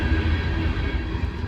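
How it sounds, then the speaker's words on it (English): A freight train with a Norfolk Southern lead locomotive and a mid-train Canadian Pacific DPU passes in winter as a steady, close, rumbling roll of railcars with no break. "Very interesting train going by here, guys."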